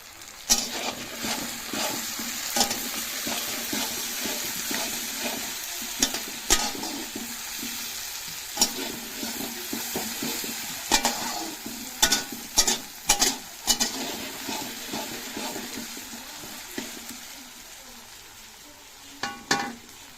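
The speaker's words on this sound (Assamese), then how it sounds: "আমি বিলাহীটো অলপ ভাজি ল'ম এতিয়া" Tomatoes frying in a pan for a village-style goat mutton curry: a steady close sizzle with repeated sharp scrapes and knocks of a spoon stirring against the pan.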